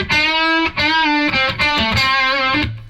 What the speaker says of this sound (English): And then more of a lead tone.